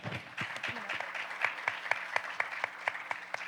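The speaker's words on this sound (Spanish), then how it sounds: "Podemos darle unos aplausos." A small audience at a visual storytelling festival talk claps, with a few distinct, evenly spaced claps standing out near the listener and faint background hum beneath.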